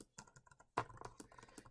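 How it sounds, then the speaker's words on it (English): Keys tapped on a tiny computer keyboard in short clustered clicks, a brief burst then a louder run of quick, close, fairly faint keystrokes. "I have a really tiny keyboard I have to use when I'm doing the videos. It's hard to type on it."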